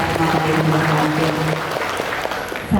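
Applause from an audience at a school job fair for vocational students, a dense steady clapping that carries on for several seconds before tapering off.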